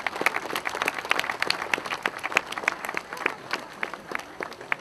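Crowd at a Danish motocross championship in Næstved applauds a silver medal at the prize ceremony, steady dense clapping throughout with no talk over it.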